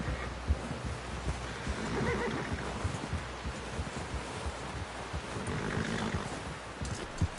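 A horse neighs and whinnies in the video game Red Dead Redemption 2, its cries rising over a steady noisy outdoor background that stays constant throughout, with no speech.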